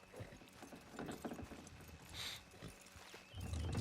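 Horses' hooves clip-clop in a video game as the animals strain to pull a load, a steady muffled plodding over game ambience with a louder thump near the end.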